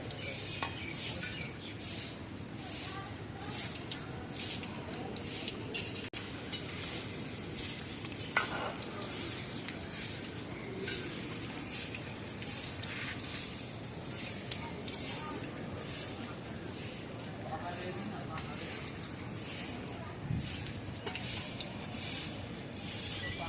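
Half-fried tiger prawns being fully deep fried at an outdoor stall, a continuous close sizzle with crackling pops and occasional utensil stirring, punctuated by bright rhythmic ticks, with a voice speaking in the background at times.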